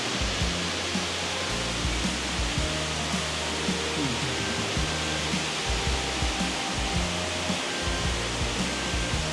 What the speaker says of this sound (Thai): มันคงเป็นผาน้ำตกลงไปล่ะ